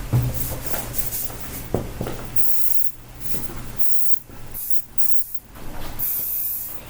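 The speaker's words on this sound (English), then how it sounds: "I need to blast some hairspray" Hairspray is sprayed onto hair in a series of short hissing bursts, some close and sharp, with softer rustling between them.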